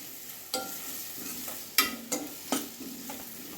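Spice powders being sautéed with onions in a pan for an okra tamarind gravy: a steady low sizzle with several sharp scrapes and stirs of the spoon, close by, no talk.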